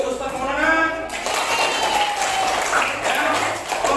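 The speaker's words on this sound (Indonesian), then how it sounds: "tepuk tangan untuk Ustadz Maulana" A classroom of young pupils clapping for their teacher, with a short burst of applause mixed with children's voices chattering over it, fairly close and lively.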